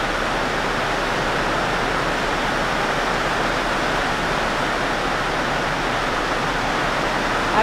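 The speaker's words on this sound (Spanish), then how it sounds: "Es que de verdad está lloviendo bastante" Heavy rain falls steadily outside, a constant broadband hiss with no pauses or distinct drops, unchanging in loudness from start to end.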